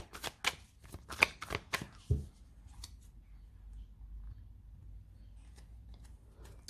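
A Rider-Waite tarot deck is cut and shuffled by hand, giving a quick run of crisp, close card flicks and riffles for about two seconds, followed by faint, sparse handling and a soft tap.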